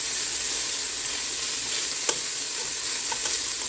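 Beef browns in a frying pan with a steady, bright, hissing sizzle, close and continuous, plus a faint tap or two of stirring and no voices.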